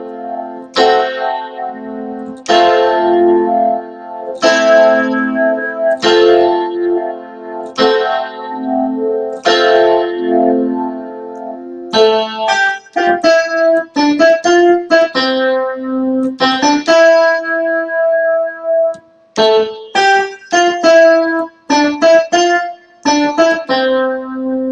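The Sonic 3 mini boss theme played on heavily distorted electric guitar with effects, loud and close: strummed sustained chords first, then quicker choppy riff phrases, with no voices.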